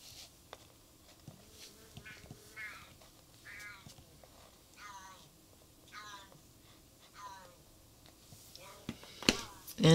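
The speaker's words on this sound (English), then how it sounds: "He has the most mournful meow when he wants out." A cat meows mournfully in the background, wanting to be let out of a room, with several drawn-out, wavering cries spread across the stretch while a person talks quietly nearby.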